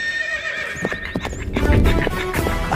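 A horse whinnies in a long, wavering call while hooves clip-clop on hard ground, with other noise and faint voices around them.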